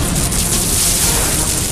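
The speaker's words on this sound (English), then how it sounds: "Target acquired! Proton cannon!" A proton cannon blast from a cartoon superhero battle, heard as a sustained, loud roaring burst of broadband noise with a hissing top end, filling the whole short moment with no talking over it.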